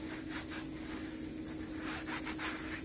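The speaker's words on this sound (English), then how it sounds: "And we're just gonna give it a little rub down. Get the rest of the loose dirt off." A cloth rubs loose dirt off a MaxxFan roof vent, giving a steady, close scrubbing hiss that keeps going without a break and with no voices.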